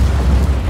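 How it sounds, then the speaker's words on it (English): An explosion in the video game Just Cause 4 makes a loud, sustained rumbling boom with deep low-end weight that fills the whole short moment without a break. "What's the best way to cause the biggest explosion possible?"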